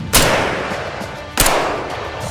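Two distant gunshots about a second apart, each a sharp crack trailing into a long rolling echo, recorded for Sniper Elite 5.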